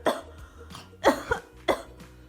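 A voice imitates a teddy bear coughing: four short, hoarse cough bursts in quick succession, close and fairly loud.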